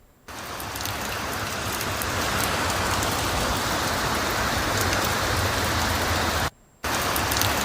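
Heavy morning rain pours down in Mumbai as a loud, dense, unbroken hiss of drops on surfaces, cut off only by one brief gap, with no talking.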